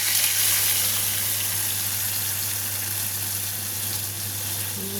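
Mustard and poppy seed paste mixed with water hits hot oil in a pan, giving a steady, close hiss of sizzling with a low hum underneath and no voices.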